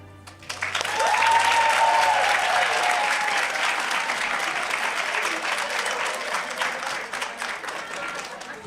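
Audience applause at a graduation recognition ceremony rises quickly into a loud, sustained roar of clapping from a large crowd, with a faint voice briefly audible over it early on.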